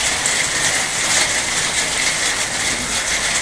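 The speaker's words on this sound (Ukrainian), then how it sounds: "Ну, знову почався дощ" Steady rain hissing continuously, a dense even wash of noise with no pauses, fairly loud and close.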